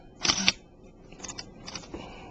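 A film camera shutter fires with a crisp mechanical snap, followed by a few fainter clicks and small mechanical sounds close by in a quiet room.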